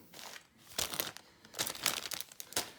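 A plastic parcel bag crinkles and rustles while Lego sets are unpacked, several close, crisp bursts of crumpling in quick irregular handling with short pauses between.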